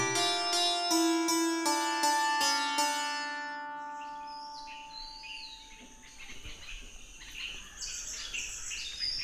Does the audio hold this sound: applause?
no